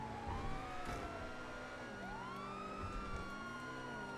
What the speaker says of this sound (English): I apologise about the siren noise.